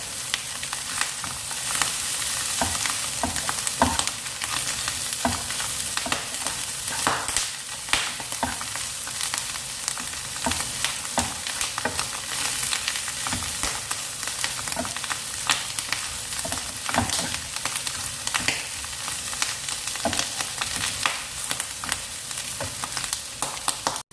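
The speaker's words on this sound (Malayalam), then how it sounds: "ഇനി നമുക്ക് നന്നായിട്ടൊന്ന് മിക്സ് ചെയ്യാം." Clam meat roast, a toddy-shop-style Kerala dish with pepper and garam masala, sizzles steadily in a pan while a utensil stirs it with frequent scraping clatters, close and continuous without speech.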